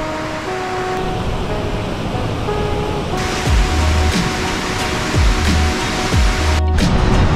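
Continuous broadband rushing of a river waterfall, heard while approaching it upstream amid Maya ruins, loud and close, with a few low thumps breaking through the roar.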